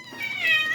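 Several house cats meow close by in a short burst of high, drawn-out cries that rise in the middle and trail off, with no talking.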